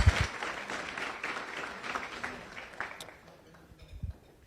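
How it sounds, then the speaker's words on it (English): A room full of Rotary Club members at a weekly lunch meeting in Las Vegas claps in welcome, a broad wash of applause that swells and then thins toward the end, with a little murmuring mixed in. "please welcome everyone with a warm round of applause"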